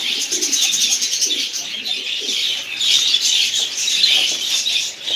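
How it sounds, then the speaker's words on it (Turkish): Tumbler pigeons in a loft coo in soft repeated low rolls, with scattered chirps and a brief flutter of wings close by, and no talk over them. "Bir takım burada döneklerimiz var."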